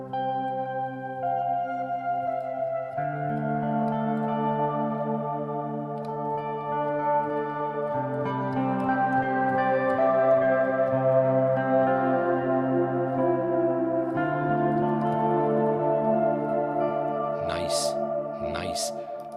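Sustained chords from a guitar virtual instrument run through a Leslie rotary effect, with the pedal worked to add scratchy swells; steady and fairly loud, with sharp scratch bursts near the end, no talk.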